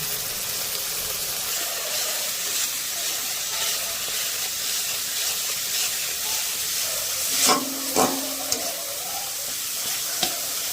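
Spice paste with turmeric and red chilli powder frying in a pan, a continuous close sizzle and hiss with a couple of brief stirring knocks and scrapes near the end.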